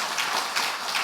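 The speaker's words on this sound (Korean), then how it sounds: "우리 박수로 크게 축복하겠습니다" A church congregation claps during an Easter Sunday worship service to welcome a newly arrived couple, a soft, steady patter of many hands at moderate distance without a break.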